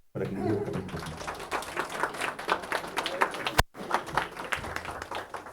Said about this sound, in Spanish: Le damos un fuerte voto de aplauso para que inicie esta presentación.